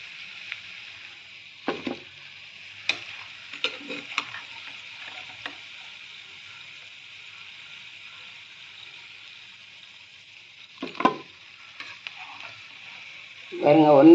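Gobi 65 cauliflower pieces frying in hot oil give a steady, soft bubbling sizzle throughout, with a few scattered clicks and stirring knocks and a louder clatter near the end.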